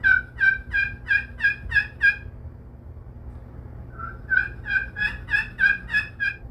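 A high-pitched yelp played on the outer edge of a custom slate turkey call. Two close, clear runs of evenly spaced yelps are separated by a short pause.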